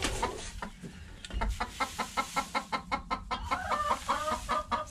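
Hens clucking inside a chicken coop during spring cleaning, a rapid rhythmic run of close, agitated clucks with a few louder calls, no talking.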